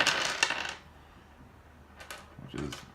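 Dice are rolled during a game of Pandemic: The Cure, a bright rattling clatter up close at the start, then a quieter second tumble and settle a couple of seconds later.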